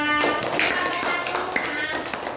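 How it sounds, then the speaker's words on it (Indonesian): A student group in a classroom gets a short burst of clapping, a dense run of quick hand claps and taps heard close, with voices mixed in. "Tepuk tangan buat kelompok 2."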